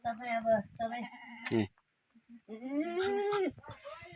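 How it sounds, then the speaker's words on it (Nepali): Goats bleating on a farm in Jajarkot, Nepal, with several wavering, drawn-out bleats close by, separated by a short pause, and voices faintly mixed in. "सबै गरेर 8वटा बाख्रा छन्।"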